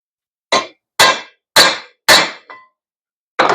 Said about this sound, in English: let's see if we can knock this rivet out.